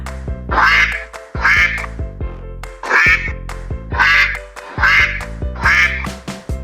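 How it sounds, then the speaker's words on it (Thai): A duck quacks repeatedly in a steady rhythm, about six loud nasal quacks in pairs, close and clear with light background noise. "เป็นเสียงเป็ด"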